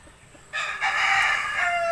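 Rooster crowing with hen-like clucking, a short loud call that rises after a brief quiet start and holds steady to the end, close by with no talk.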